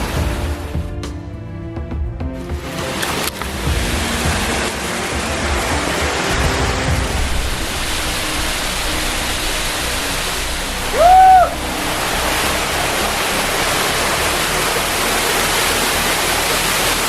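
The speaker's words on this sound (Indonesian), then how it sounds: "Inilah air terjun yang paling atas." Steady broadband rush of the uppermost waterfall, continuous and fairly loud throughout, with a brief tonal chirp partway through and no talking.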